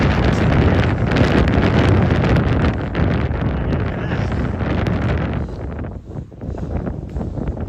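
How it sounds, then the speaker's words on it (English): Cold wind buffets the microphone on a trail run, a loud, continuous roaring rumble that swells and dips without pause. "That wind is cold."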